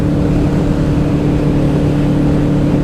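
A Yamaha VMAX motorcycle cruising at highway speed around 70 mph, heard as a steady, loud engine drone under heavy wind roar, unbroken and even throughout.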